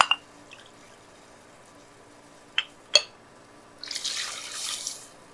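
Water is poured into a pan of rice rava tamarind upma, starting with a few light drips and taps, then a short, soft splashing pour near the end.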